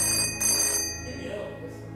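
A mobile phone call rings with a bright electronic ringtone, loud and close at first, then fading beneath a low background, with no speech.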